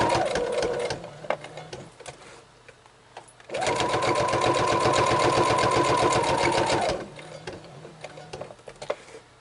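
A sewing machine stitches a small vintage-style journal card in one loud, rapid burst of needle clatter lasting about three seconds, framed by quieter handling and clicks before and after.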